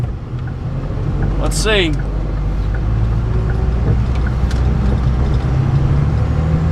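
A Cummins-powered Ford F350 truck pulls down a highway with a steady, loud low engine drone and road rumble throughout, while people talk briefly over it.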